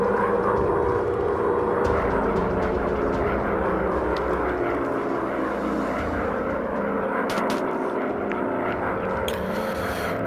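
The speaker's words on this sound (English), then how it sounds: "Ooh, a lot of bombers this time." Several WW1 bomber aircraft engines in the game Warplanes: WW1 Fighters drone steadily and loudly throughout, a continuous low propeller roar with no pauses.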